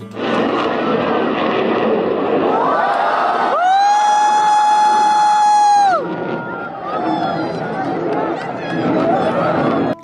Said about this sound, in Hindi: इन विमानों की आवाज भोपाल के आसमान पर गूंजती रही।